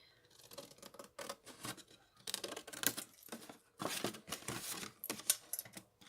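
Scissors cutting paper in short bursts, snipping to the right then back to the left, with crisp close snips and brief pauses between strokes, no talking.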